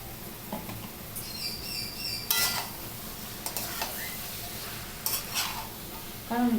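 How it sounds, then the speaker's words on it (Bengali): Long beans are stirred with potatoes and spices in a pan, with intermittent utensil scrapes and clinks over a soft, continuous sizzle, close and fairly quiet. "ভালো করে আলু আর মশলার সাথে বরবটিটাও মিশিয়ে নিলাম।"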